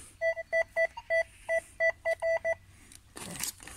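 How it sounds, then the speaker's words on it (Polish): A metal detector gives a coin signal in the field: about a dozen short, clear electronic beeps in an uneven rhythm, followed by a brief rustle of handling or digging. "No zaś mamy sygnał na monetkę."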